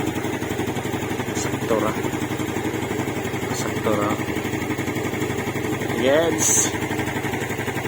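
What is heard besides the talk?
Yamaha Mio Sporty scooter engine running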